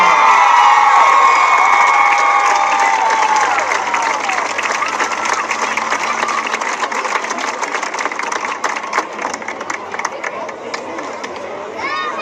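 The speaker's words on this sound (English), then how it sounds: "please again applaud our 2025 Royal Couple" A crowd at a high school homecoming during a football game cheers and applauds the newly crowned royal couple, a loud continuous roar of clapping and shouting that slowly fades a little over the clip.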